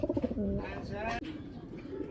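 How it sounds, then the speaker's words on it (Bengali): Pigeons of fancy breeds kept for sale coo in soft, low rolling phrases near the recorder, with a voice talking over and between the calls. "কবুতর পেয়ারটা দেখাই"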